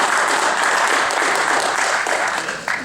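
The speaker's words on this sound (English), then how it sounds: "please give them a round of applause again" Audience applause for the members of a faith forum panel, steady dense clapping filling the whole stretch, loud and close, with faint voices underneath near the end.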